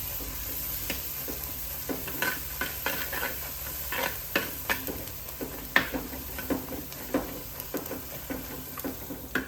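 A spoon stirring prawn curry masala with fenugreek powder and chili powder in a pan, producing a low sizzle under repeated soft scraping and tapping strokes in an uneven rhythm, quiet and close, no speech.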